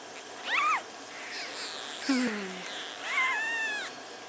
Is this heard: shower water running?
no